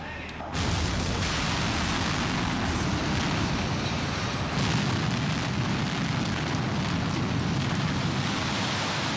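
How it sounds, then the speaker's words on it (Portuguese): An explosion from electric detonators in a Swiss Alps tunnel blast erupts suddenly, then settles into a loud, sustained roaring rumble of debris that fills the whole stretch. "uma descarga elétrica causa explosão"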